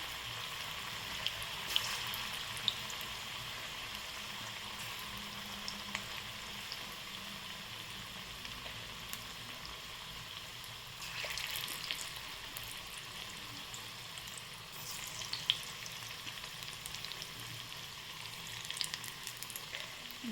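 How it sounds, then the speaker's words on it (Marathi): Spinach pakoras deep frying in oil over low heat, a steady, even bubbling sizzle with faint crackles throughout, moderately quiet and continuous with no talk. "तर हे भजे मस्त तळत आहेत."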